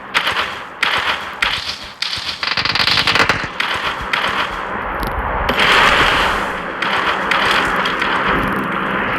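Gunfire in a firefight in the video game PUBG comes as loud bursts of rapid cracking shots and sharp pops, dense and jumbled over a constant game background, with no clear speech.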